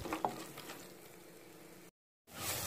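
Spice paste poured onto fried onions for beef vindaloo sizzles and crackles in the pan, with a soft patter of stirring, a brief cut to silence, then frying resumes.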